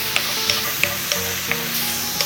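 Thin pork belly slices sizzle steadily in a hot, oil-free pan over high heat, with soft periodic clicks and scrapes of stirring over a constant hiss.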